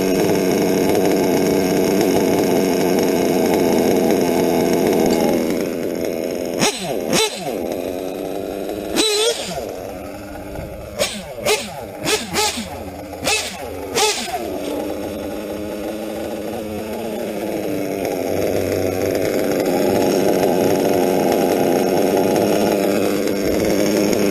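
A small engine idles low and steady, the tone dips and breaks into bursts of sharp revving in the middle, then settles back to a continuous drone.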